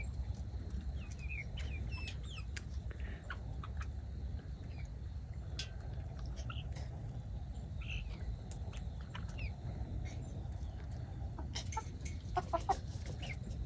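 Chickens and a rooster clucking, with repeated short calls scattered through the clip over a steady low farmyard rumble, fairly close and moderately loud, no talking.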